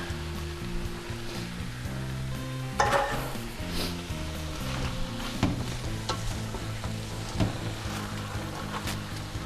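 Ground beef, about 1.5 pounds, browning in a pan on the stove with vegetables, giving a steady close sizzle and crackle, with scraping stir sounds and occasional louder clatters of a utensil against the pan.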